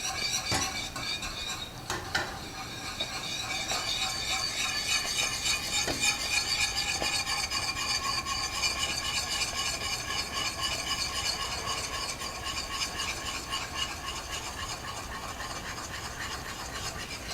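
A spoon scrapes and stirs blueberry jelly with white sugar in a pot at a rolling boil, a steady close metallic swishing and scraping with occasional clinks against the sides and a soft bubbling hiss beneath.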